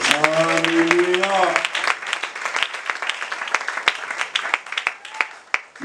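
A church congregation applauding and cheering for the Lord, dense clapping rising after a sung or shouted voice at the start, then continuing as crowded, uneven applause to the end.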